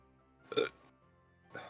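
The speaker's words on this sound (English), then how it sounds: "And burping." A single short burp sounds close and fairly quiet, followed a moment later by a softer trailing noise, with no talking.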